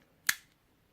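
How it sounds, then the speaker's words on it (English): Cigar scissors make a single quick, crisp snip, close by and fairly quiet, with near silence before and after. "some scissors."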